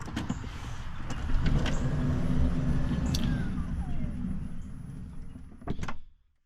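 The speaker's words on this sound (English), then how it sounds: "Just below that handlebar is the power button to close the door." Power sliding door on a Toyota Sienna XLE Hybrid AWD minivan closing, a steady motorized whir running for several seconds, then a firm latching thump at the end and silence.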